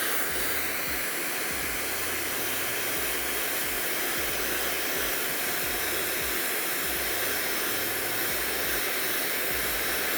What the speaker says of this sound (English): what we're gonna be using is a blow dryer to push away some of these